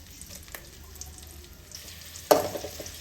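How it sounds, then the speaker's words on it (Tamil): Crushed, unpeeled garlic dropped into hot oil while making kaara boondi, a soft sizzle and faint stirring that jumps into a sharper, louder crackle near the end, with no talking. "கடைசியாக இந்த பூண்டை போட்டு வறுத்துக்கலாம்"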